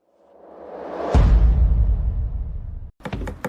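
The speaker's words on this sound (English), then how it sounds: "Open the door." A door opening with a rising whooshing swell that ends in a heavy low thud, followed after a brief pause by a few sharp knocks or clatters.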